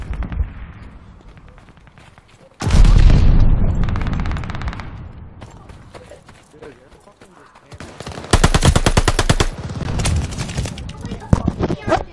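A grenade blast and bursts of automatic gunfire in Call of Duty Vanguard, loud, in two heavy volleys with rapid rattling shots and fading echoes between.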